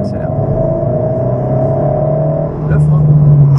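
Alpine sports car accelerating on a track at Dreux, a loud steady engine drone with a rising tone from close by, swelling louder near the end.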